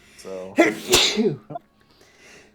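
One loud, sharp sneeze bursts out from a player during a card game draft of Wilds of Eldraine. A short breathy intake comes before it, and brief speech follows.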